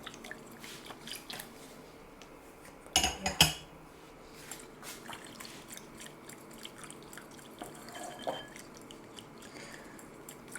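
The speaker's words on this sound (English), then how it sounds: "And keep stirring." Chocolate chip cookie dough stirred in a bowl with a utensil, soft quiet squishing and scraping, with a brief louder clink of metal against the bowl partway through; no talking.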